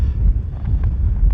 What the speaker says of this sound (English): As I say, it is windy